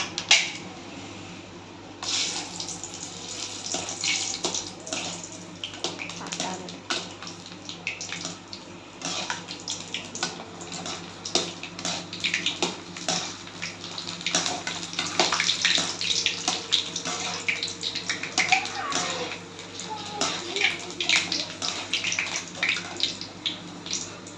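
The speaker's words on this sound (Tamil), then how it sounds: "இப்போ பார்த்திங்கன்னா எண்ணெய் நல்லா காஞ்சிருச்சு. பூரியை போட்டு பொரிச்சு எடுத்துக்கலாம்." Puris deep-fry in hot oil for pani puri, a dense continuous sizzle and crackle, close and steady with no talk.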